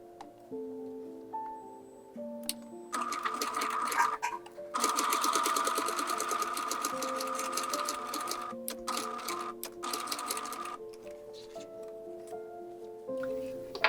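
A sewing machine stitches the crotch seam of doll overalls in a quiet room, starting with a few slow stitches, then running in a fast, steady mechanical rattle with brief stops and restarts, and no talk.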